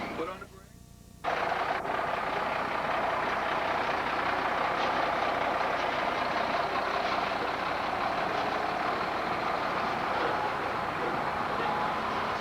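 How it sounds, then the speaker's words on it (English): A truck at a trucking school idles and shifts into reverse, its engine a loud, steady rumble with possible faint reversing beeps. A quiet lull at the start gives way to sustained noise, and voices may be present. "Let's put the truck in reverse again"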